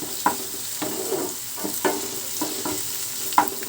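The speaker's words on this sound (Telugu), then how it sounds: "ఇక్కడైతే ఉల్లిపాయలు వేపుతున్నానండి" Onions frying in a pan give a steady close sizzle, broken by a spatula scraping and tapping against the pan in an uneven rhythm, with no talking.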